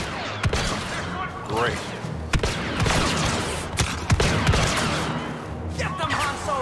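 Blaster gunfire rings out in a Star Wars Battlefront 2 battle: scattered sharp shots and short bursts cut through, with voices talking over the fighting.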